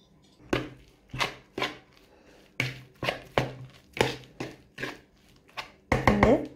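Dough ingredients for a cheese flatbread are mixed in a bowl, giving a string of about ten rhythmic, close thumps and knocks with short pauses between them.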